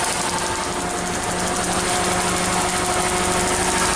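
A 2003 Mitsubishi Lancer engine idles steadily with one cylinder's plug unplugged, giving a slight misfire in its close, continuous running drone with a faint uneven beat and steady hum throughout.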